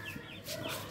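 An Aseel fighting rooster in a shed gives a single short, sharp cluck near the end, over a faint background with no talking.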